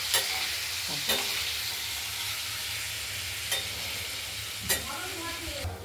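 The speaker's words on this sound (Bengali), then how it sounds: "আলুটা ভাজার জন্য সামান্য একটু হলুদ দিয়ে দেবো। আলুটা ভাজা হোক" Potatoes with a little turmeric sizzle and crackle in a hot pan, a steady frying hiss with a few clicks of stirring at intervals.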